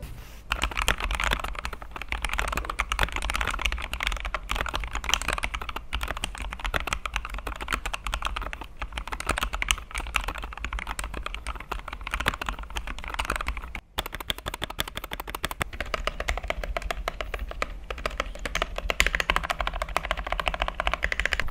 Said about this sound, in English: Paired with lubed Gator and Reds, this has sort of a light poppy sound to it